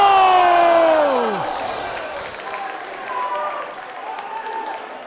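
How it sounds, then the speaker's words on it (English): A wrestling crowd cheers and applauds after a somersault plancha, with loud voices and whoops sweeping down at the start, then a sustained wash of clapping and cheering that slowly fades. "Somersault plancha as the crowd in attendance goes crazy"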